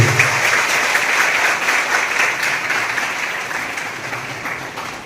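An audience claps steadily at a Botad district police awareness seminar, loud and sustained, with dense overlapping hand claps that taper slightly toward the end.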